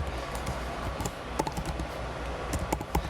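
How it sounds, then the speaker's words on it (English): Keys tapped on a computer keyboard in an irregular run of soft clicks, close and fairly quiet, with no talking. "And then you can type in your name."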